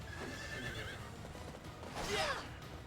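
A horse neighs in a video game, a bright rising whinny near the end over a steady background bed, with faint hoof clip-clop earlier.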